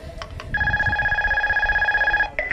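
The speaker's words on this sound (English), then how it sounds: "I'm getting a phone call." A phone rings with an incoming call during a zip-line outing in Whistler, BC: a single sustained electronic ring tone that is loud and close for about two seconds, with faint background rustle before and after.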